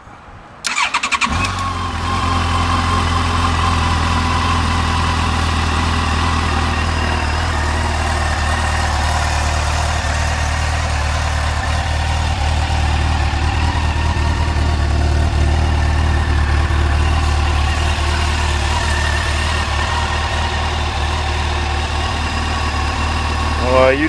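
A Yamaha FJR 1300 AE motorcycle engine cranks and catches after a brief starter whir, then settles into a steady, loud, close idle that runs evenly to the end without revving.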